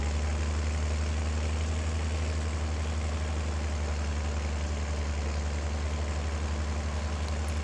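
A new Case tractor's engine runs steadily with a low, even idle-like drone, close and continuous with no breaks or voices.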